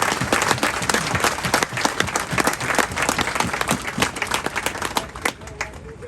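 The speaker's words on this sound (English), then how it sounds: "Give yourselves a round of applause." Audience applause at a Marine Corps recruit graduation in San Diego, a dense run of many hands clapping at steady volume for about six seconds, close and continuous with a slight fade toward the end.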